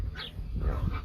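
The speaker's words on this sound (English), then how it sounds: "you can probably hear them barking in the background" Puppies on a farm bark and yip in the background near a trailer, two or three short, moderately loud yelps over a low outdoor rumble.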